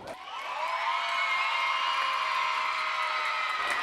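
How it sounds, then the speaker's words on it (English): Springfield school students cheering loudly in a sustained, bright crowd roar with whoops and yells, rising quickly and holding steady for several seconds before cutting off. "I want to hear a cheer from our Springfield schools."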